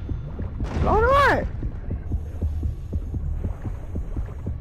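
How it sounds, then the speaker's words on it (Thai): Rhythmic, steady heartbeat thumps pulse throughout underwater gameplay in the video game Depth, sitting under a low hum, with a brief watery swooping tone near the start. "เสียงหัวใจเต็มเลย"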